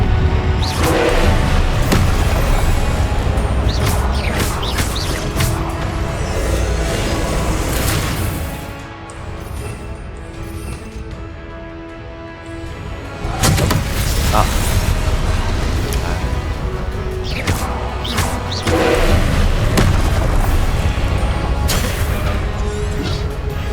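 Spell blasts and explosions from the Hogwarts Legacy video game, a dense, loud barrage of booms and crashes nearly continuous throughout, easing briefly midway before resuming at full strength.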